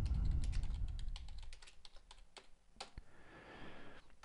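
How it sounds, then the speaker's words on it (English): Quick, close, crisp keystrokes on a computer keyboard, tapped in a fast irregular burst under a low background rumble. "Type the caption."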